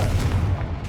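A short, heavy Confringo fire-spell blast from Hogwarts Legacy, a deep booming thump that rolls through about a second without any voice over it.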